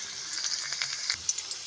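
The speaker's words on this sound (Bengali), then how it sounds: "ভালো করে রসুনগুলোকে তেলের সঙ্গে ভেজে" Chopped garlic frying in oil in a home kitchen pan, a soft, steady close-up sizzle with occasional small crackling pops, no voices.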